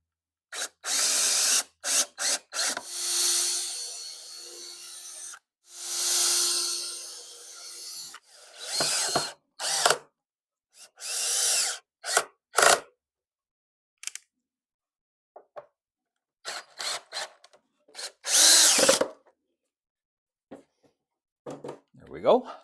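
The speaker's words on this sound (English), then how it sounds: "And I'm putting all this together once again with some 1 1/4 inch coarse thread drywall screws." A power drill drives 1 1/4 inch coarse thread drywall screws into wood while a small On30 model railroad layout is assembled, in short close whirring bursts between stretches of talk.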